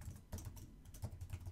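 Typing on a computer keyboard, a quick run of soft, close key clicks in an irregular rhythm, faint and alone without speech.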